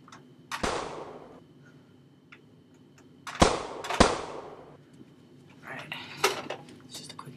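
Sniper rifle gunshot effects play in an iMovie example: a few sharp, loud cracks with short ringing tails, spaced a second or more apart, while a person speaks between shots.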